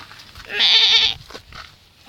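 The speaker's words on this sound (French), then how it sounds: "Vous voyez, ici, il y a une chèvre." A goat bleats once, a loud nasal cry lasting about half a second, close by at a campsite farm area near Amboise, followed by softer rustling.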